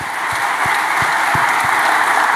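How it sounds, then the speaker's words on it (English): An audience claps steadily for the panelists at a seminar on digital intelligence and data management, a dense continuous applause with a few low thumps and no speech over it. "let's get a big hand of applause for all the panelists"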